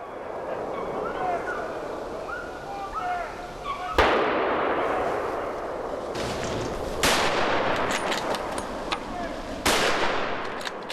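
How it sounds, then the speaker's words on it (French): Distant gunshots ring out during a wild boar hunt, three or four sharp cracks echoing from neighbouring posts over steady outdoor ambience, with faint birdsong early on. "il est toujours passionnant d'écouter les tirs des postes voisins"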